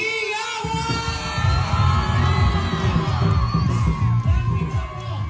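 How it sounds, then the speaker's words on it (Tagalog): A crowd at a barangay gathering in Pinagbuhatan cheers loudly, with whoops and shouts, including children's voices, rising after a brief quiet start and holding as a continuous, energetic roar. "Isa mo na malakas na palakpakan na may kasamang hiyawan!"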